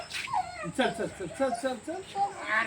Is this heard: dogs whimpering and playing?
yes